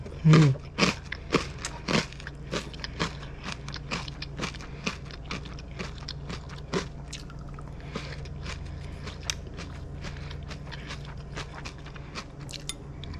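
Crunchy salad being bitten and chewed near the microphone, with a loud burst of sharp crunching bites at the start followed by steady, closer chewing crackles continuing throughout.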